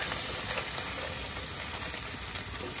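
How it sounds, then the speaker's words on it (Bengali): Garlic and ginger fry in a hot pan with a dense, steady sizzle and crackle that stays loud and close throughout, with no voices over it. "রসুন আর আদা ভালোভাবে ভেজে নিতেছে"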